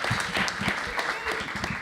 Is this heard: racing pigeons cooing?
no